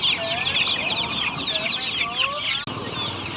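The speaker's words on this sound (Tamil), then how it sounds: "ஒரிஜினல் கருங்கோழி." A flock of black karunkozhi chickens clucks and chirps continuously at close range, busy overlapping calls filling the space, with a brief sharp click near the end.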